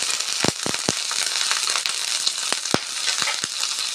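Pirandai, veld grape stems, crackle and spit while being sautéed in a hot pan, with scattered sharp pops over a steady sizzle and no voices.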